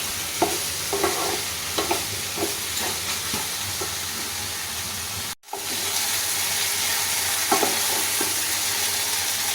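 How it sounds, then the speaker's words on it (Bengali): Steady sizzling of mushrooms frying in butter in a pan, with regular scraping and stirring clicks, then a brief cut before the sizzle continues. "এইটা দিয়েই আমি নাড়াচাড়া করে মাশরুমটাকে ভেজে নেব"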